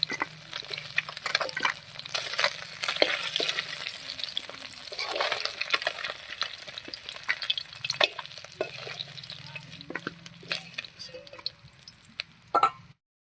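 Small river fish frying lightly in oil, a close crackling, popping sizzle with spatula stirs and scrapes throughout, ending in a sharp clatter, no talk.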